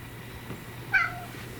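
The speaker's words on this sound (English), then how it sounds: "Look at this new purring." A pet cat lets out a single short, clear meow close by against a quiet indoor background, with no purring evident.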